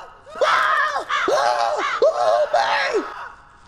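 While playing the horror game Silent Breath, a person lets out four drawn-out, wavering screams in quick succession, loud and close to the microphone.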